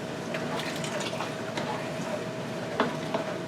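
Salsa full of vegetables and broth ladled into canning jars, with soft wet pouring and sloshing, faint clinks and a couple of sharper taps near the end, fairly quiet.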